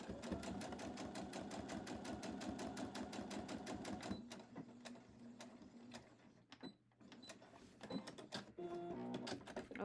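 Close and clear, a sewing machine back stitches a fabric box seam: a fast, even run of needle clatter for about four seconds, then shorter starts and stops with quieter gaps.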